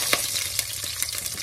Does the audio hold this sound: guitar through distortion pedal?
no